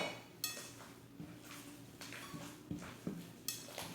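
Spoon scraping and clinking against a bowl while Spanish bread dough is mixed, quiet irregular taps and knocks with soft rubbing between them.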